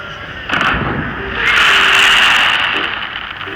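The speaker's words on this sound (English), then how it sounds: "And then that was their fireworks." Fireworks at Disney Studios Paris go off in loud, booming bursts with a crackling wash of sparkle that swells and lingers, set against a steady crowd and park ambience.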